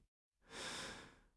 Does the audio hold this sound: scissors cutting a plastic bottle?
no